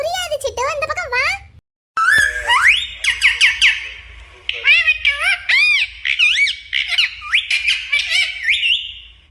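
Chittu, a pet parrot, screeches and chatters almost nonstop in shrill, sweeping, whistle-like calls close to the recorder, with a brief silent gap near the start and a low hum underneath.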